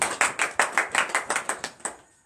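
A church congregation at morning prayer in Benin claps in acclamation, about ten sharp unison claps in a brisk regular rhythm, close and loud, ending abruptly with a brief room decay.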